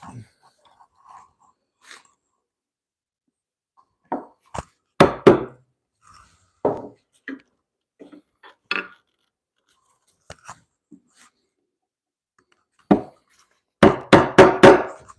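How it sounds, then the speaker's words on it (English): Hand chiseling of a wooden mortise for timber-frame joinery produces sparse, sharp wooden knocks and cracks. Isolated taps are spread across long quiet gaps, with a denser flurry of loud, close strikes near the end. "Don't chisel towards yourself."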